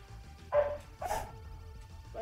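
A dog barks in a few sharp, separate yelps, fairly faint and set back in the room, over a steady electronic hum from a running game.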